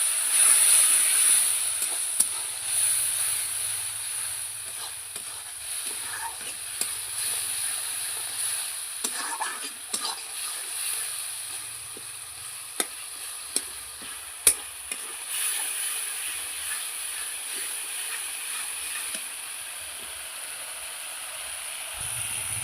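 Ground onion and chilli paste fries in a pan with a steady soft hiss and sizzle, broken by occasional sharp utensil taps, close and without talking.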